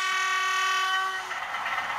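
Bachmann Class 46 model locomotive under digital control on a test track, giving a sustained two-tone horn-like electronic note that fades after about a second into a brighter whirring running sound.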